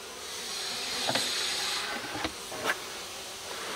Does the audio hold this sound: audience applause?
no